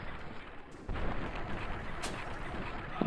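Gunfire in the Fallout video game, a sharp onset near one second followed by a steady loud burst of shooting with another crack around two seconds, all under continuous game noise.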